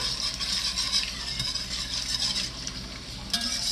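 Melted unsalted butter is stirred in a pan with Old Bay seasoning, giving a steady soft scraping and faint sizzle close by, with no talking.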